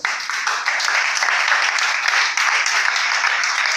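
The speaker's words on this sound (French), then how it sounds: "Acclamons le Seigneur pour sa parole." A church congregation bursts into steady, dense applause for the Lord, a sustained wash of many hands clapping at close range for the whole stretch.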